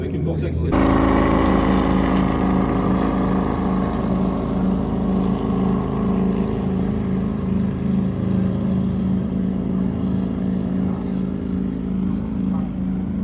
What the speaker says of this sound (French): là vous venez d'entendre la Audi R8 passer et on voit vraiment le gros bruit que ça fait